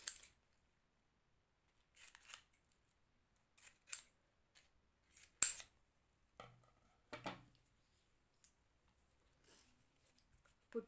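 Scissors snipping paper for a paper-cup kiwi craft, scattered short cuts spread across several seconds, close but quiet, with silence between the snips.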